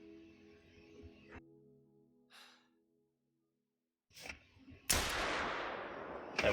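A handgun shot fired at a red fox in a hunting video game, one loud sharp blast with a long fading tail after quiet breathing and a brief pause.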